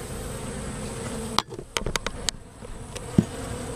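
Honey bees buzz around a hive in a bee yard after a summer overcrowding swarm, a soft continuous hum overlaid by a few sharp clicks and taps of hive handling close by.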